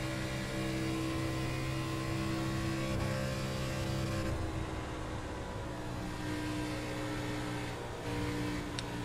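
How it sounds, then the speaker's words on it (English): An ARCA stock car in iRacing at Chicagoland holds a steady, loud engine drone pinned against the rev limiter, a constant buzzing roar with slight flutters and no break. "my rev limiter"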